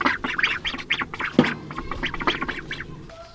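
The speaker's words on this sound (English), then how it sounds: "let's go check on the ducklings" Ducklings quack and peep in a rapid, busy chorus, close and fairly loud, with overlapping calls and no talking.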